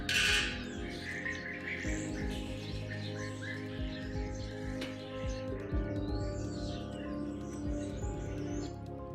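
Birds chirp and tweet over a steady low hum, with bright calls scattered throughout, soundtrack of a bird-watching lodge's promotional footage, no talk.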